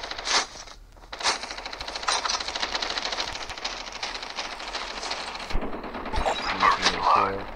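Gunfire in Call of Duty Mobile, including an MP5, rattles in rapid bursts of shots against game sounds, loud and sustained, with no clear talking over it.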